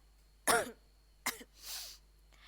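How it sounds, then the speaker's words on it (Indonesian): Close, quiet indoor coughs and throat clearing from one person with a cold, a sharp cough, a shorter follow-up, then a breathy rasping clear, separated by brief silences. "agak sedikit ada batuk-batuk dan pileknya"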